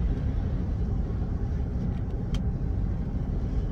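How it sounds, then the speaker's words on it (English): Low, even road roar heard from inside a Tesla on the move, a steady rumble with faint swells as cars pass on the left, no talking. "cars that are passing me on the left-hand side as well"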